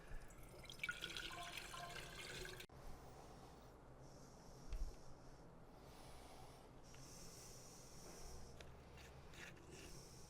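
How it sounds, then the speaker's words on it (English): Vinegar is poured into a container over a rusty part for rust removal: a splashy, noisy rush of liquid at first, then a steady low trickle and dripping close by, with no talking. "fill it up as high as I can with the vinegar"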